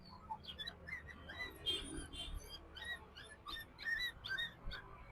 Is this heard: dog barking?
yes